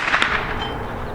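A single close .223 rifle shot firing a subsonic 55 grain bullet, with a short sharp crack at the start followed by a rumbling decay.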